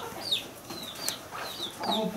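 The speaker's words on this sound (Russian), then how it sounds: "Вон куры, видишь, гребут." Chickens scratching in a farmyard give short, repeated clucks and squawks close by, a few overlapping calls across the moment with no speech.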